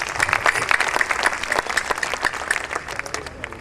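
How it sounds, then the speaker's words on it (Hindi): Loud, dense audience applause at a comic poetry gathering (hasya kavi sammelan), rapid overlapping claps from a large crowd sustained throughout, with a faint voice mixed in. "मैं भी तालियां चाहता हूं"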